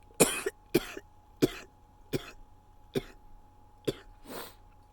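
Someone coughs repeatedly, about seven harsh bursts spaced roughly evenly, close and loud with quiet between them.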